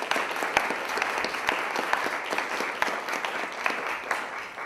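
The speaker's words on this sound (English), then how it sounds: "we would love to give her a round of applause" Applause breaks out at a school board meeting in honour of the superintendent: a moderate crowd clapping steadily with sharp individual claps standing out, continuous throughout.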